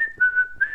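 An agitated pet parrot whistles a short, loud, steady tone that wavers slightly in pitch, close by and alone, lasting under a second.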